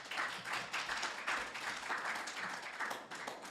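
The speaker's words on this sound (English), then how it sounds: "Round of applause." Moderate audience applause after a talk on Swift programming, a dense patter of many hands clapping at middling distance, with a few faint voices mixed in.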